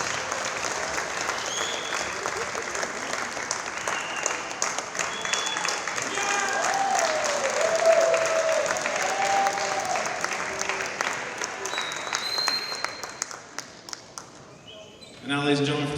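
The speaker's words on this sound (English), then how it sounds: "one more round of applause for the Peters Township senior" Sustained applause from a crowd in a high school gym honoring the Peters Township senior boys volleyball players before a match against Baldwin, steady clapping throughout that swells in the middle and fades near the end, with an announcer's voice over it.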